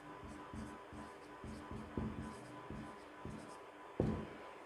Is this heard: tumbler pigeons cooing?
no